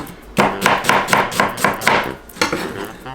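A knife chops steadily through a sweet Vidalia onion on a cutting board, cutting julienne strips with about a dozen close, even strokes at a quick rhythm and no talk over it.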